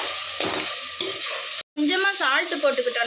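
Tomatoes and chilli sizzle in a hot pan while a spoon stirs and scrapes through them, a close crackling fry broken by a brief silent gap before the sizzling resumes.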